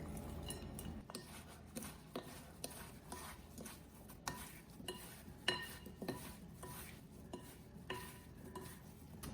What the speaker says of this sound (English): I'm going to sprinkle the dry ingredients on the apples, and then I'm going to toss them around until they're all coated